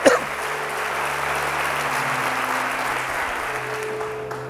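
A church congregation claps together during an evening service, a steady, even wash of applause over a low sustained background hum and organ-like tone.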